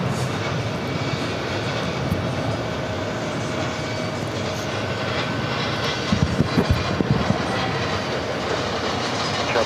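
Condor airliner moving across runway 22 right at JFK, a steady broad engine roar at moderate distance that persists throughout, with a few faint knocks near the end.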